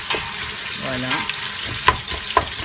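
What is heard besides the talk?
onions frying in a pot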